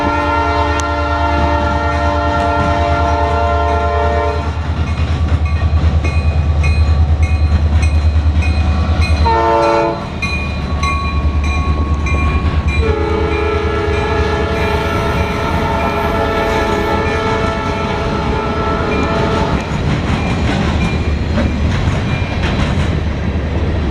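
Norfolk Southern southbound local freight train passing in Marion, Ohio, with loud horn blasts over a steady rumble of rolling cars and wheel clatter, close and continuous.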